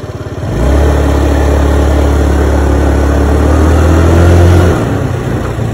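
A Kymco Super 8 150 sporty scooter pulls away under throttle, its engine note climbing into a loud, steady drone close by, then easing off near the end; no talking.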